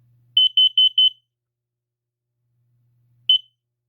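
A smoke alarm from a collection sounds a quick burst of four sharp, shrill beeps, then goes quiet before one more beep, each loud and close against near silence.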